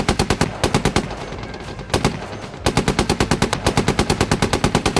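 Gunfire against a BTR in the Gunner HEAT PC tank game, loud rapid automatic bursts with evenly spaced shots, pausing briefly before a long steady stream resumes.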